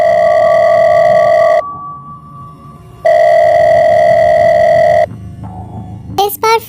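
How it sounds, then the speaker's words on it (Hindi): A telephone ringtone from a horror audiobook plays loud and close in two long steady tones separated by short pauses, then breaks into a brief burst of warbling electronic notes. "पॉकेट में रखा उसका फ़ोन दोबारा बजा।"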